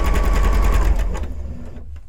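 A sewing machine runs steadily while stitching the corners of a trim dash, a close, continuous mechanical whir that eases slightly in the last moments.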